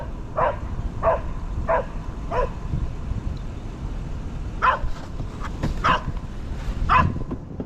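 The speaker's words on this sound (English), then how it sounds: "Hey, if you keep barking, they're gonna know you're coming." A dog barks at geese outdoors, giving about eight sharp barks in two bursts, a few in an even rhythm and then more after a pause, moderately close over a steady background rumble.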